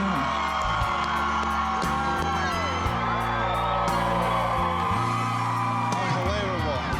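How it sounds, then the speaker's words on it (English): A crowd of supporters at a home makeover reveal screams, whoops and cheers nonstop, loud and dense throughout, with voices mixed into the din. "I just went like this, waved my hands, and they all start screaming."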